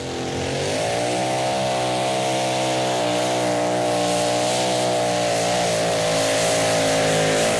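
A pulling tractor's engine roars during a run at the 2015 European Tractor Pulling Championship in Brande, Denmark, a loud sustained drone that holds steady and builds gradually in intensity with no talk on top.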